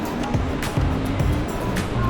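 Ocean surf rolls in at a seaside cafe on a reclaimed-land shore, a steady broadband wash with swelling surges, close and fairly loud, with faint voices and laughter in the background.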